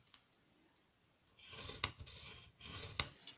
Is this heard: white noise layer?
no